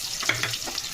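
Sliced shallots and slit green chillies hit hot oil already crackling with fenugreek seeds, giving a soft steady sizzle with a few small pops and crackles over one second, heard alone.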